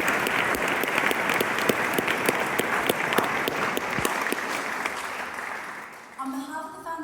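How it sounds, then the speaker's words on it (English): An awards ceremony audience applauds in a dense, sustained burst of clapping. The applause fades out near the end, and a voice starts speaking over the tail. "can you please give yourselves another round of applause?"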